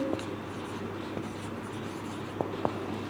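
Pen writing an example sentence on paper or a board, faint scratchy strokes with a few sharper taps, close and quiet over low room hum, no talking.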